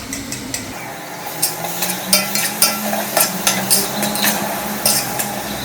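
Tomatoes are stirred into a large pan of frying masala with mint and turmeric, a spatula scraping and knocking against the metal in a steady repeated rhythm over a soft continuous sizzle, close and moderately loud.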